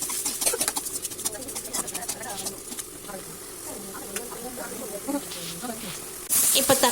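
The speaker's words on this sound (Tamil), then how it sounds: "இந்த தக்காளி நல்லா வதங்கும் போது உப்பையும் சேர்த்து வதக்கிட்டோம்னாக்கா நல்லா வதங்கிடும்" Tomatoes and salt sauté in a hot pan for fish curry, giving a steady sizzling hiss with scattered crackles and pops, while a voice talks over it and faint chirps sound in the background.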